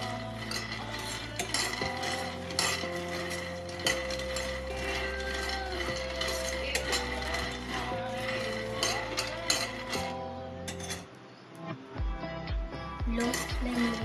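Peanuts are dry-roasted in a pan over a low flame, stirred with a utensil so the nuts rattle and scrape steadily against the metal in a continuous close, busy texture, with occasional sharper clinks toward the end.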